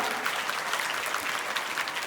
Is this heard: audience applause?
yes